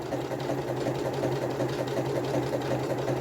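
A domestic sewing machine runs steadily through an automatic zigzag stitch cycle while a garment is sewn, its rapid rhythmic needle clatter continuous and close, with no voice over it.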